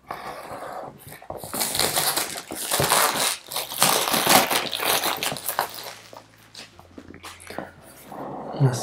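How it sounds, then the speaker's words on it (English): Plastic packaging being peeled off a Google Nest Mini box, a close crinkling and crackling with sharp tearing bursts that come and go irregularly. "let's just peel this packaging off"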